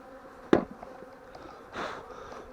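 Honeybees swarm and buzz at an open hive full of honey, a faint steady drone with one sharp close knock and a swelling rush of buzzing toward the end.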